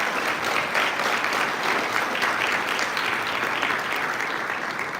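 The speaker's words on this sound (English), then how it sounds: "can we get another round of applause to Baker for throwing together such a beautiful video?" A live audience applauds at a racing team's car unveiling, a dense, steady clapping held at even loudness for several seconds.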